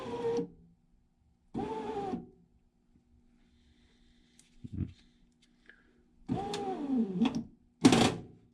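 A power window motor in the door of a 1973 Ford Econoline, binding at the top of its travel, whines in several short bursts separated by silence, its pitch sagging as it strains, heard close up.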